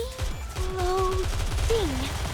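Rapid gunfire in the game Goddess of Victory: Nikke, a quick volley of shots under tonal game voices and effects.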